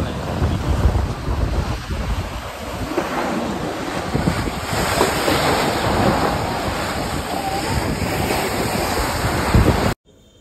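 Sea waves wash onto the shore of Mousuni Island at night, a broad continuous roar of surf mixed with heavy wind buffeting the microphone, loud and unbroken until it cuts off abruptly at the end.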